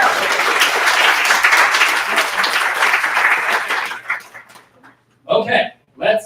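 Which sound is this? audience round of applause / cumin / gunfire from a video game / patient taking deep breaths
audience round of applause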